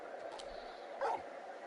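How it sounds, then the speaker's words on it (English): A large dog in Final Fantasy XVI gives a short, soft whimper and yip, brief and close, over a low background hum. "You're just a big puppy, aren't you?"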